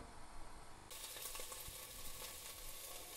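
Meat browns in a pot for a Senegalese rice and meat dish, giving a soft, continuous sizzle and crackle that picks up slightly after a moment, faint and alone.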